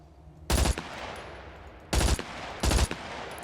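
A rifle in the game Scum fires three short, loud bursts separated by brief pauses, each a tight rattle of rapid shots with a fading tail.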